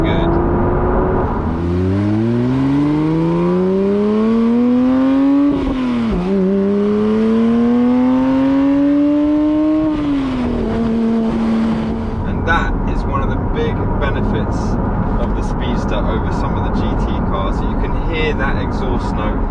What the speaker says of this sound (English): exhaust note in full force with the top down